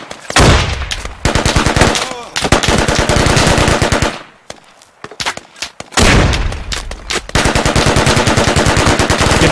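Loud, close bursts of sustained automatic machine-gun fire in the military shooter game Squad, two long streams separated by a brief pause, with scattered single shots in between.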